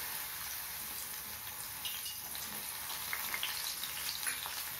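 Crushed unpeeled garlic cloves, about twenty, and curry leaves frying in oil in a pan for a spicy chana dal fry, giving a steady close hiss and crackle that runs evenly throughout without talk.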